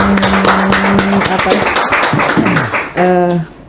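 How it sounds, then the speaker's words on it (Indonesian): Brief clapping from people at a smart city presentation, mixed with loud talking voices and a tonal background sound, the claps uneven and partly masked before fading near the end. "Beri tepuk tangan dulu teman-teman."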